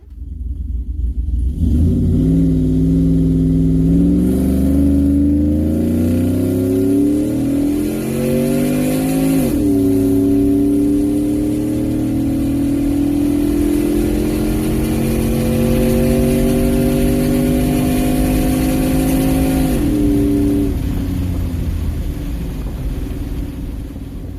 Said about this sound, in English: Let's check out the Dragy video of our quarter-mile time with the old 373 gear ratio.